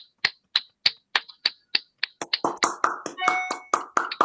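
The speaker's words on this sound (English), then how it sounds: "So another round of applause for our fantastic 2 storytellers." Sharp, widely spaced claps ring out one by one, then quicken and thicken as more hands join in, an audience applauding two young storytellers at an international storytelling event.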